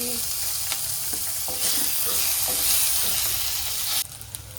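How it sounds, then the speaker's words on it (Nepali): Ginger, garlic and chili paste sizzles in hot oil with fried onion, a steady broadband crackle for about four seconds with a few soft stirring knocks, then it drops abruptly near the end. "अब म चाहिँ अदुवा लसुन र खुर्सानीको पेस्ट राख्छु थोरै"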